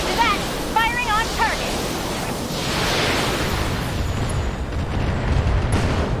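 Mech weapons firing on a target in Battletech, heard as a sustained roaring rumble of heavy fire and blasts after a short burst of speech, loud and continuous to the end.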